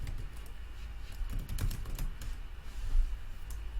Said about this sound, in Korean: 그 다음에는 git 머지 명령어 입력하시고 뒤에는 우리가 머지할 대상인 피처 로그인